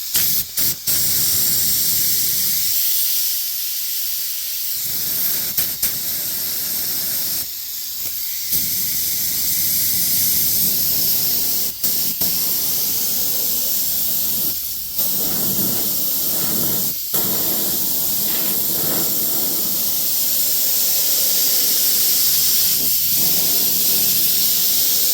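An aerosol spray can hisses steadily during rust repair painting on a 2018 Ford Escape, long continuous loud bursts broken by a few brief pauses, close and alone.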